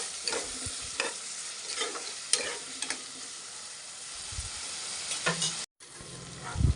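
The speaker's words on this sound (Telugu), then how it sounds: "ఇందులోనే టమాటోస్ వేసుకుందాం. ఒకసారి వేయించుకుందాం." Tomatoes fry with a steady sizzle in a pan for a brinjal and egg curry, close up. A spoon stirs them in several scraping passes, and a brief cut interrupts the sound near the end. No one speaks.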